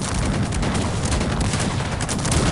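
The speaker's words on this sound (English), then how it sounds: "we're still opening fire on those damn cavaliers" Dense musket volleys in a Cossacks 3 battle at Newbury, a continuous loud crackling barrage of overlapping shots with no pauses and no voices.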